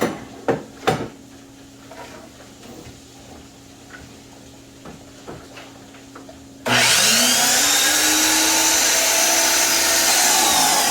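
A power saw bites into a wooden board after several light knocks of the wood being handled, then whines loud and steady for several seconds as the blade cuts through.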